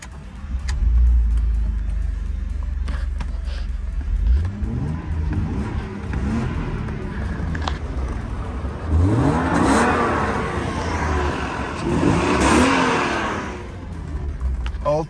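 A BMW E36 320i coupe's six-cylinder engine revs up repeatedly from idle, with rising sweeps at about 4, 9 and 12 seconds and a steady idle between them, heard close and loud with a little background noise.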